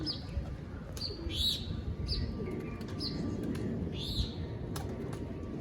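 Pigeons kept by a hobbyist give soft cooing and a few chirps over a steady low rumble of background noise, moderately near, with no talking.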